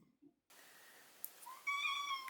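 An orange cat with the zoomies lets out a single clear meow near the microphone, rising then falling, after a brief quiet start.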